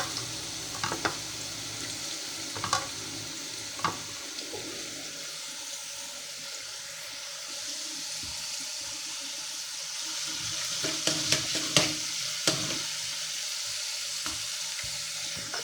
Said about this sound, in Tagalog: O yan, umpisahan na natin mag-gisa. Unahin natin, tungon natin ang ating luya.